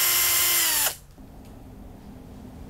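A power drill whines at high speed driving a screw during roof insulation work, stops abruptly, then revs briefly again at the very end.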